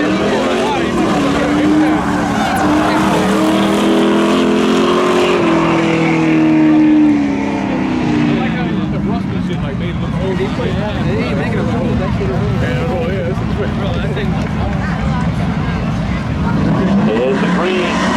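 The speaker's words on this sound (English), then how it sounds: "Franz Weidinger in the Trans Am going up against Joe Perry in the Camaro." A Pontiac Trans Am and a Chevrolet Camaro roar down the strip in spectator drags at Seekonk Speedway, engines loud and sustained, pitch rising then falling as they pull away, with an announcer talking over the noise.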